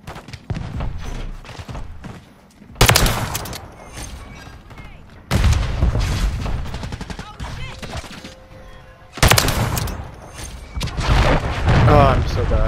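Gunfire in the video game Modern Warfare 3: three loud bursts of bangs and booms strike abruptly, each trailing into rattling shots, with a player's voice talking between them.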